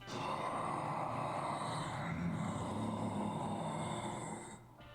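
Heavy, rasping breathing from the character Charon in the video game Hades 2, a continuous loud snore-like rumble held for about four seconds before trailing off.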